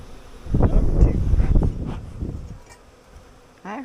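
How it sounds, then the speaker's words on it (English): Honeybees buzz around hives in a bee yard after heavy rain, a dense close hum swelling and fading as individual insects pass near the microphone, with a brief breezy rumble toward the end. "I heard you buzzing behind me."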